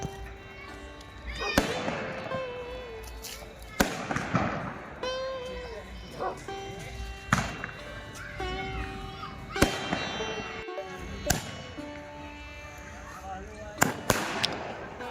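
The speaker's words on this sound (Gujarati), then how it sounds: "તમે નિહાળી રહ્યા છો આકાશમાં આતિશબાજી થઈ રહી છે ખૂબ જોરશોરથી દારૂખાનું છે ફોડવામાં આવી રહ્યું છે" Diwali fireworks and firecrackers crack and boom at a lively street celebration, with repeated loud bursts while someone narrates over them.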